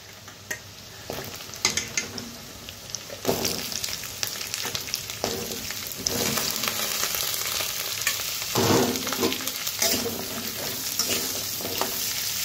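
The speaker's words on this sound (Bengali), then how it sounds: "পেঁয়াজ হালকা হালকা ভাজা হয়ে গেছে, সবজিগুলো ছেড়ে দিই।" Vegetables fry with lightly browned onions in a pan, a loud close sizzle with repeated scraping and stirring that swells toward the end, alone without speech.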